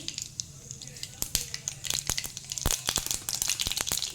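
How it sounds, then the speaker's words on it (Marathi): Sharp, irregular pops and crackles burst up close over a low sizzle as mustard seeds splutter in hot oil in a kadhai, growing busier toward the end. "कढईमध्ये तेल गरम करून ठेवलेलं आहे. ह्याच्यात आपण आत्ता घालणार आहोत मोहरी."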